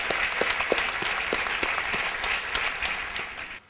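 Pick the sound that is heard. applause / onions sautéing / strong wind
applause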